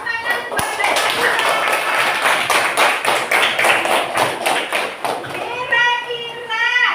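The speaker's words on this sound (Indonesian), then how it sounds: "beri tepuk tangan buat Nadifa" A primary school class claps together for a classmate named Nadifa in a quick run of steady, rhythmic unison claps lasting several seconds, with children's voices mixed in and a voice following at the end.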